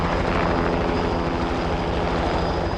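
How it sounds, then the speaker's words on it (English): A helicopter flies close overhead, its steady rotor chop and engine roar loud and continuous throughout, with no other sounds or voices present. "They sent a helicopter to pick up one dying British soldier."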